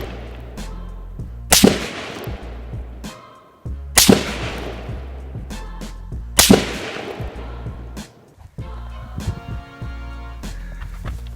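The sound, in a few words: gunshots from PSA 10.5-inch AR pistol at 100 yards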